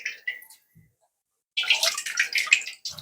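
Crab broth for a Tamil crab rasam is poured and strained through a filter, giving a short splash, a pause, then a steady pouring, trickling wash of liquid with a brief burst at the end.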